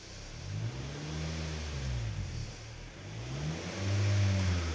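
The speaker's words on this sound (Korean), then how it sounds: "한번 배기 소리 들어보세요" A Hyundai Sonata DN8 N Line running on LPG revs through its exhaust, a deep throaty rumble rising and falling in repeated surges, loudest near the end.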